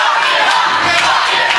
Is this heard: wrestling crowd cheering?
yes